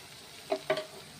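Fish curry base frying in a pan as turmeric goes in, two short sizzling bursts against a quiet background with no voices.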